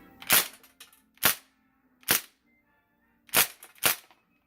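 Crosman DPMS SBR .177 BB gun firing on semi-auto, five sharp snapping shots in an irregular rhythm, close and clean against near silence.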